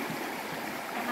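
River water flows steadily, a soft continuous rushing close by, faint and without clear speech.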